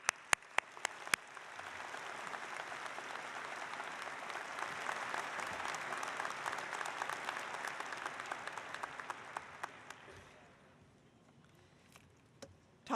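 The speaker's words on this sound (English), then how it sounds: "So I'd simply ask you to give this group of bridge builders a round of applause." Undergraduate spring commencement audience applauds: a few sharp individual claps open, swelling into broad, distant-sounding applause that peaks mid-way, then thins to scattered claps and fades out.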